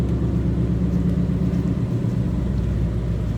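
A 2018 Ford Mustang GT Fastback V8 idles steadily nearby with a deep, continuous low rumble, no voices over it.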